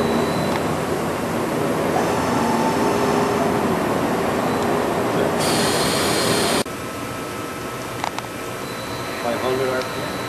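An H Roberts Topwell TW-50 CNC vertical machining center runs with its table turning, giving a loud, steady broadband mechanical roar. A brighter hiss surges for about a second midway before the noise drops slightly and settles.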